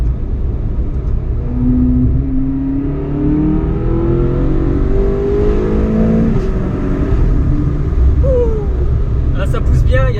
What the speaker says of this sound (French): Là ça pousse bien, il y a des déflagrations au passage des rapports et quand on rétrograde.